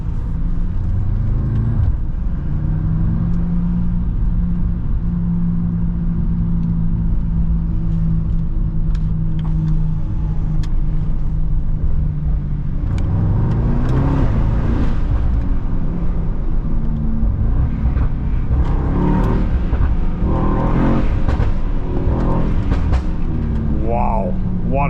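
A Mercedes Kugel S600 with over 600 hp drives along, its engine a steady, loud low drone that swells and rises in pitch midway as it accelerates, with higher surges near the end.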